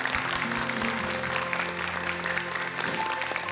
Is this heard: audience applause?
yes